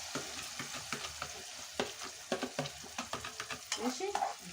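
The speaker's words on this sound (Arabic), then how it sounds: "هتحمري بصلايه كده" Chopped onion frying in a home pan while being stirred, a bright continuous sizzle broken by repeated scraping and clinking strokes of the spoon, close and busy, with a few faint voiced sounds toward the end.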